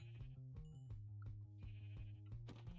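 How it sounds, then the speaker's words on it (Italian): Sheep bleating in Minecraft, a run of repeated wavering game bleats heard clearly and alone, with no talk. "Ciao, piccola pecora."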